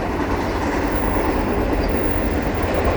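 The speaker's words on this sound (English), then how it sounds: "I got an Eastbound CN freight. Looks like going to be all auto racks." Close and loud, an eastbound CN freight of auto rack cars rumbles steadily past at Valois in Montreal, with a continuous roar of wheels on rails and no voices.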